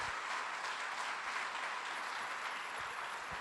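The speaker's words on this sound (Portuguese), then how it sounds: "você pode dar uma salva de palmas ao Senhor" A church congregation applauds in continuous, dense clapping that holds at an even level from start to finish with no voices standing out.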